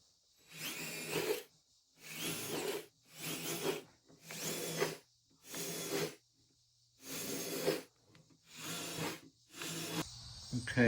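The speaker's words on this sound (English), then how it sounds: "I'm going to drill these holes" A power drill boring holes in a car door during a coupe-to-convertible door conversion, seven separate bursts of whirring and grinding about a second long each, separated by short pauses, close and fairly loud.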